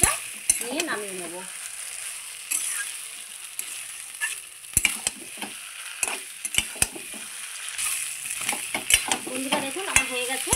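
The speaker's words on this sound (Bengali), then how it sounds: "দেখুন একটু ভালো করে নাড়াচাড়া করে মিশিয়ে নেব, মিষ্টিটা নিয়ে নামিয়ে নেব।" Fish-head muri ghonto being stirred and mixed in a pan: a low sizzle of frying throughout, with repeated sharp scrapes and taps of the spoon against the pan.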